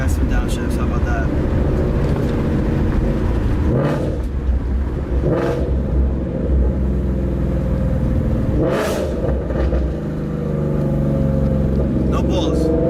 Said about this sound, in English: let me give you guys some downshifts